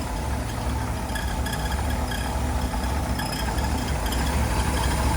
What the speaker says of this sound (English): There it is, that 409 engine.